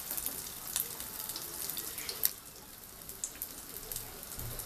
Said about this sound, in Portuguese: e vamos deixar fritando até ficar bem douradinha.